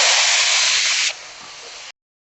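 Tomatoes hit hot tempering oil with cumin and asafoetida for green undhiyu, giving a loud, sharp sizzling hiss that drops to a quieter sizzle after about a second and then cuts off.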